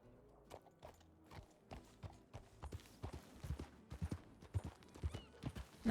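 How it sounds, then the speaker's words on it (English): A horse's hooves clip-clop steadily and fairly close in an irregular walking rhythm, with scattered knocks and shuffles and no voices. "Beautiful horse."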